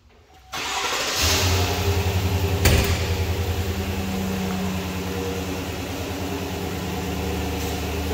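A 2021 GMC Sierra with a 5.3 liter engine cranks and fires, then settles into a steady, loud idle with a brief surge just after starting, heard alone and close.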